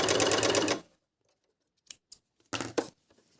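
A Dragofly 858 sewing machine stitches fabric in a loud, fast, steady run of under a second, followed by silence and then a few short stitching bursts.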